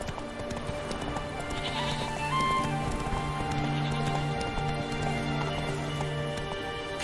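Roach, a horse in a video game, gallops with steady clip-clop hoofbeats over continuous game music and ambient sound, moderately loud and unbroken throughout.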